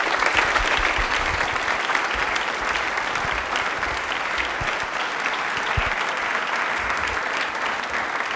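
A studio audience at an Independence Day quiz show claps in steady, dense applause that holds at an even loudness from start to end, close and unbroken by speech.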